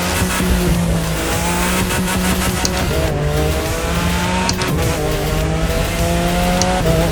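Tuned Mercedes GLE 250 Coupe in a racing video game, its engine exhaust roaring loud and continuous with rising rev sweeps and gear-change dips, accompanied by tire squeal throughout.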